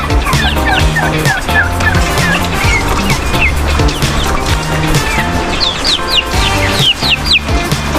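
A flock of turkeys gobbling repeatedly, overlapping calls in bursts over a constant backdrop of clucking chickens, fairly close and loud, during rainy weather.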